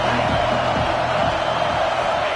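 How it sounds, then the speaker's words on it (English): A college football stadium crowd roars and cheers at an NCAA game, a dense, distant wall of noise with scattered whoops, steady and loud throughout. "This crowd bringing the energy and noise early."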